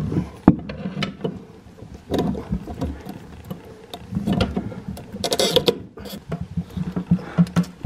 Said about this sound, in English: I'm going to have to get some channel lock pliers in there to loosen that off.